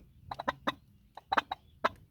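Hens cluck in short, quick bursts, a handful of close, clear calls separated by brief pauses, with faint background hum between them.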